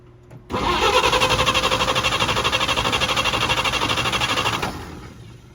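A 1948 Chevy truck engine with the choke closed cranks and catches, running in a rapid, loud, even chatter for about four seconds before the revs drop away.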